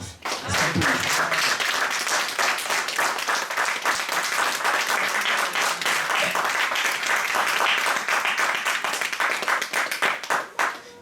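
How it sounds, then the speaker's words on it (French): A church congregation at an evangelical service applauds continuously, dense loud clapping from many hands filling the room and fading at the end. "Est-ce qu'on peut acclamer le Seigneur pour tous ceux qui servent?"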